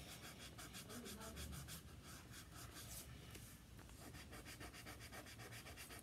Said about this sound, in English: You want to rub the colored part of it.